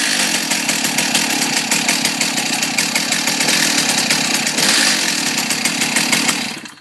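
Stihl MS290 Farmboss chainsaw running at its operating setting after warm-up, a loud, steady close-up engine buzz that holds throughout and cuts off at the end.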